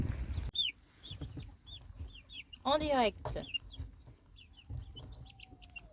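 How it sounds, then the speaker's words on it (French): Hens cluck and cackle repeatedly nearby as one lays an egg, with one louder squawking burst in the middle, under a brief spoken phrase and light background noise. "Je crois que c'est la première fois que je vois une poule pondre en direct."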